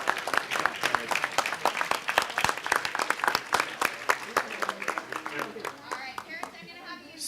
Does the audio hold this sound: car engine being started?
no